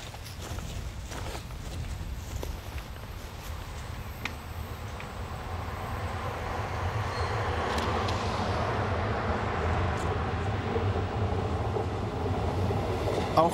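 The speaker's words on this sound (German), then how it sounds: "Der Zug sieht heute anders aus." A train on an East German steam railway rumbles past, a continuous rolling roar that grows louder and fuller toward the end, with occasional clanks and knocks over the steady noise.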